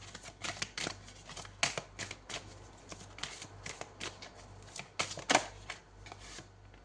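Tarot cards are shuffled and drawn by hand, a close, quiet series of quick riffling flicks and papery slaps in an uneven rhythm.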